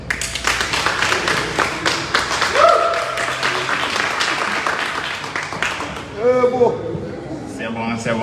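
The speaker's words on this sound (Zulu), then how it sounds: "Cela simshayele ihlombe." A crowd claps and applauds at a family gathering. The bursts of clapping are steady and fairly loud for about six seconds, then fade as a voice begins speaking.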